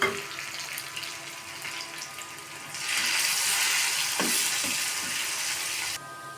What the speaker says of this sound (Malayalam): കടുക് പൊട്ടിക്കഴിയുമ്പോൾ അതിലേക്ക് നമ്മൾ വറ്റൽമുളക് ഇത് ഇട്ടിട്ടുണ്ട്. അവസാനം അതിലേക്ക് ചെറിയ ഉള്ളിയും കൂടി ഇട്ട് നന്നായിട്ട് മൂപ്പിച്ചെടുക്കാം.